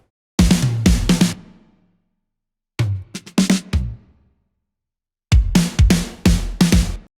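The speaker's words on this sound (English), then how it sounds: "I'm having these fills just to introduce the drums so that it doesn't sound like sudden effect." Acoustic drum fills for a progressive house track arrive in three short bursts of rapid, loud hits separated by silence, each burst ringing out briefly before the next. No voices.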